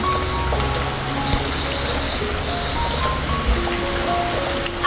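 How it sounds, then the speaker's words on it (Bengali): Heavy rain falling in a village, a dense, steady hiss of drops pattering on surfaces, constant and close, with no talk. "আজকে এই যে বৃষ্টি পড়তেছে দেখছেন"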